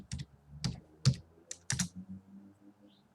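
A few separate taps and short clusters of keystrokes on a computer keyboard, close and fairly quiet, spaced irregularly with brief pauses between bursts.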